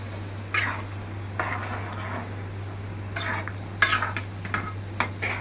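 Ridge gourd with spices frying in a pan, stirred with a utensil that scrapes and clinks in intermittent strokes over a steady low hum and soft sizzle.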